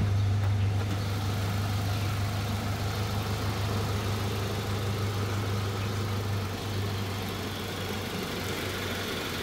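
A 2014 Toyota Land Cruiser Prado TX with a 2,700 cc engine idles steadily with a low, even hum and rumble throughout, no revving and no voices.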